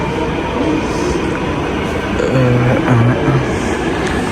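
An airport rail train to Incheon Airport rumbles steadily close by with a broad mechanical roar and faint tonal whines from the wheels and motors as it pulls in.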